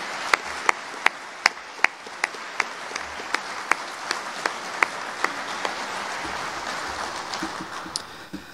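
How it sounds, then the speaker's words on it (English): An audience at a Navy Sailor of the Year ceremony applauds, a broad wash of clapping in a large room with a few sharp, distinct claps standing out at a steady beat, and no one speaking. "I would love for us all to give them a round of applause"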